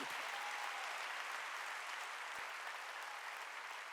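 A church congregation at a Korean Wednesday worship service claps together; steady, even applause from many hands runs throughout, somewhat distant and moderately quiet, with no clear talk.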